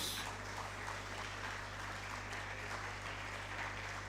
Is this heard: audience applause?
yes